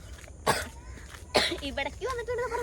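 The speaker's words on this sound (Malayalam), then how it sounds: "വെറുതെ നിന്റെ ചുമ മാറാത്ത" A woman at a beach house event destination gives two sharp, close coughs about a second apart, followed by people talking nearby.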